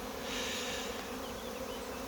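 A honey bee swarm clustered at a hive entrance, buzzing as a dense, continuous, steady drone at moderate distance, with no voices.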